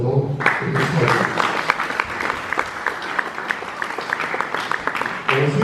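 An audience at a diploma-awarding ceremony breaks into applause, dense sustained clapping filling the room for about five seconds, with a voice audible briefly at the start and end.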